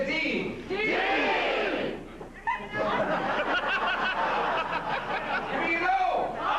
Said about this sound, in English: Let's start with a football cheer.